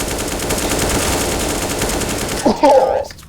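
Rapid, continuous automatic gunfire fills a Counter-Strike match on the Vertigo map, loud and sustained, with a voice briefly speaking over it near the end.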